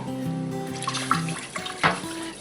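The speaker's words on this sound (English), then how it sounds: "And then we're going to add our milk. 2 cups of milk." Two cups of milk pour into a cast iron pan over a flour and butter roux, making a steady, soft liquid splash and gurgle that runs for a couple of seconds, with no talking.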